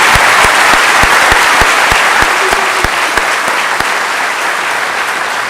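Loud, sustained applause from a large crowd at the West Holmes High School commencement, with a steady wash of clapping and a few sharp, rhythmic nearby claps standing out throughout.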